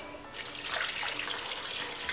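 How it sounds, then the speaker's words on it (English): Water poured into a cooking pot over cauliflower pieces to cover them before boiling, a steady splashing rush that holds evenly throughout at a close distance. "So I'm just gonna add some water to cover and we'll bring this up to a boil."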